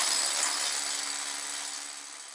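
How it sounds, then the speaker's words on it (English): A drill boring anchor holes into a garage floor for a Bison 9KAC two-post car lift post, a loud continuous high whine that fades slightly as it runs, with no talk. "he drills one hole, put an anchor in the hole"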